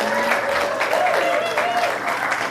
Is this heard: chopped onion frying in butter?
no